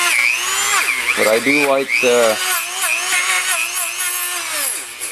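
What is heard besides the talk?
Dremel rotary tool cleaning a Motorcraft 2150 carburetor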